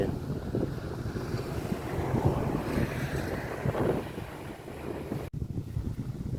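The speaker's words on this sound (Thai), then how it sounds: "ลมตี" Wind gusts roar steadily across an open reservoir beside floating raft houses, buffeting the microphone with a low rumble and lapping water, loud and continuous with one brief dropout near the end.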